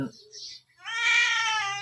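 A house cat meows up close, a short call followed by a longer, drawn-out meow, loud and clear against a quiet background.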